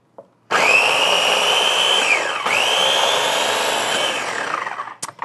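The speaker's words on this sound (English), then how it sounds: "Okay, this is ready to blend." A kitchen blender whirring through a chicken burger mixture with mushrooms, a loud steady motor drone that starts abruptly, dips briefly midway as the load shifts, then runs on for several seconds before cutting off.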